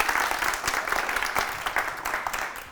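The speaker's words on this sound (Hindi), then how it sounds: "बहुत सारी तालियां।" A studio audience at a morning television show breaks into steady, dense applause that carries on for a few seconds at a fairly even loudness.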